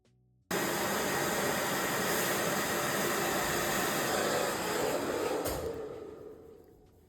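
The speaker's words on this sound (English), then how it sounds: "So you're still blow drying the crown forward" A hair dryer blow-drying hair switches on abruptly and roars as a steady loud rush of air, close, then fades toward the end, with no talk.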